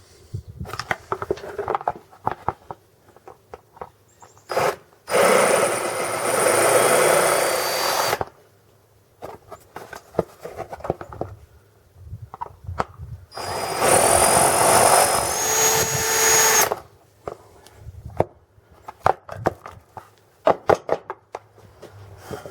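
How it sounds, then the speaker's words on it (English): A power drill drilling out rivets on a Warn winch on a wrecker whines loudly in two sustained bursts of a few seconds each, separated and surrounded by clicks, clatter and handling noises. "So we got to drill out the rivets to install the new one."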